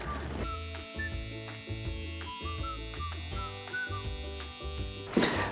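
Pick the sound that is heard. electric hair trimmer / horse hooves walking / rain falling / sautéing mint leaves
electric hair trimmer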